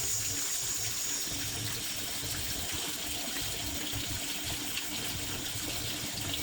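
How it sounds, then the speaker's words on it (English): Hot water running steadily from a tap into a clogged sink drain, a continuous close splashing rush with no talk over it. "flush the drain with hot water to clear up the clog."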